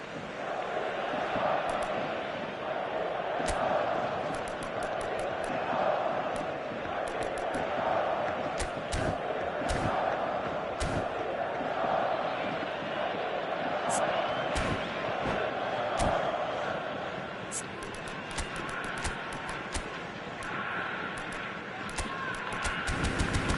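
A stadium crowd at a video game football match keeps up a steady roar and chant, with sharp claps and thumps popping through, and it fades slightly toward the end.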